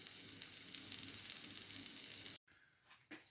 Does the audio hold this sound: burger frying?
yes